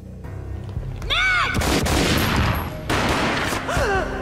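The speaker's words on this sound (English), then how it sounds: "A gunshot boomed and she fell down in slow motion." Gunfire in the Max Payne video game, a loud burst of several booming shots with echoing tails over a tense game soundtrack, alone without talk.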